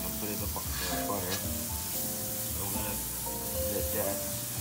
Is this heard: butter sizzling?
yes